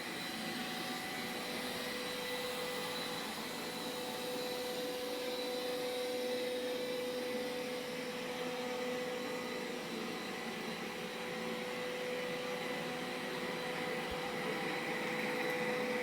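A Roborock S5 robot vacuum cleaner runs steadily on its first mapping pass around a home, a constant whirring drone with a faint tonal hum, no talking.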